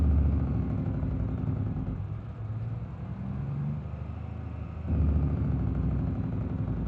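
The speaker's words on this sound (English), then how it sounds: "I use the engine brake, even though it's really loud" A truck engine brake in BeamNG.drive on a steep downhill road, a loud steady low rumbling drone that dips briefly in the middle and then swells back up, heard alone.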